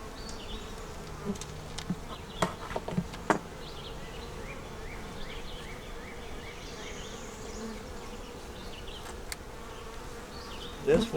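Honey bees buzz around an open hive during an inspection of a double deep nuc, a dense, continuous hum of many insects close by, broken by a few sharp knocks and taps.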